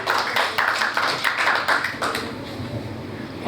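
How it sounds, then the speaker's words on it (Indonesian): Applause from a church congregation welcoming a speaker, a run of scattered hand claps that builds and then thins out, closing with a brief louder sound. "berikan tepuk tangan yang meriah buat Bapak Andreas Tauheni."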